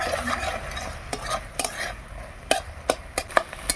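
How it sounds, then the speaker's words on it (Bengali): Spice paste with banana flower and prawns is stirred and sautéed in a pan, giving a soft, steady sizzle broken by sharp scrapes and taps of the spoon against the pan. "মোচার তরকারির মশলাটা কষে নিচ্ছি"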